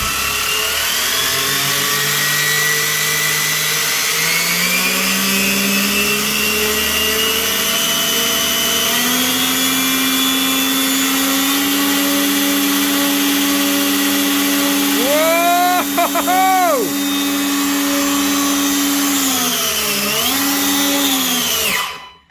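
A Traxxas XO-1 RC supercar's electric motor revs up in a rising, high-pitched whine that climbs steadily, then blips and sweeps up and down in quick throttle bursts before cutting off.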